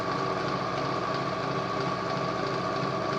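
A sewing machine runs steadily, stitching a fabric pencil case with Velcro, a continuous mechanical hum and whir with no pauses, close and fairly loud.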